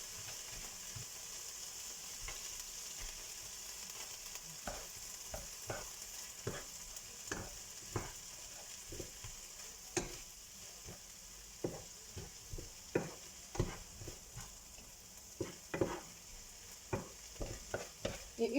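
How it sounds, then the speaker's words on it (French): A spoon stirs vegetables seasoned with turmeric and harissa in a frying pan: close, repeated scraping strokes and clicks in an uneven rhythm over a soft, steady sizzle, with no voices. "Donc je mélange le tout."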